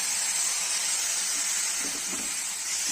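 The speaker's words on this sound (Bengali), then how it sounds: "এতে আমি অল্প অল্প জল অ্যাড করবো।" Water poured into a pan of frying semolina, nuts and vegetables makes a loud, steady hiss of steam that fills the whole moment without pause.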